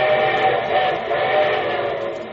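A steam-style train whistle sounds as a sound effect in a vintage radio show about railroads, blowing one long steady chordal tone that stays loud and close throughout, with no talking.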